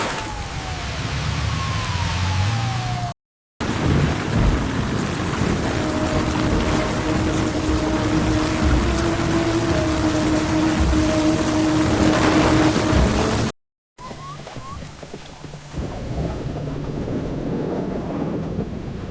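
Heavy rain pours onto a flooded street as a car drives through it, a dense roaring wash interrupted by two brief cuts to silence, with a low engine tone and faint rumbles in the middle stretch.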